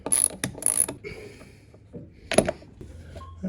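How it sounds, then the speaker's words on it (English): A stubby screwdriver works screws loose on a wooden boat cabin under restoration, giving short bursts of ratcheting, clicking metal at close range with quieter scraping gaps between them. "This stubby screwdriver is a lifesaver."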